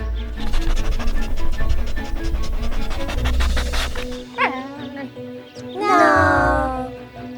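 Puppet-show dog voiced with barks and whimpers amid children's program audio, with lively music-like tones and a rising whine near the end, loud and close throughout.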